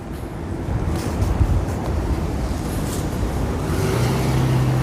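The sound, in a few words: wind blowing into a microphone with wind muff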